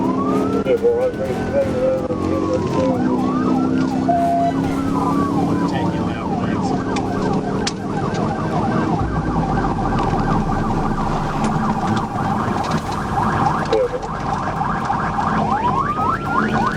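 Police car siren wails and yelps continuously during a high-speed chase, loud and close with rising and falling sweeps over engine and road noise, with a voice talking over it.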